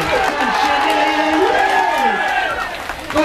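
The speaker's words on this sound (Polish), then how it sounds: "teraz proszę państwa, brawa, oklaski" Roadside spectrators cheer and applaud as the peloton sweeps past at a cycling race in Grudziądz: a dense, continuous wash of crowd noise and clapping, with whoops and an excited commentator talking over it.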